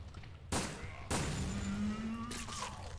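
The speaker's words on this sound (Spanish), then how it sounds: "Vaya puta mierda de explosión, pero ¿qué coño ha sido eso?" Two sharp blasts from an explosion in the video game Resident Evil Dead Aim, the second followed by a ringing, sustained tone and a lingering rumble that fades slowly.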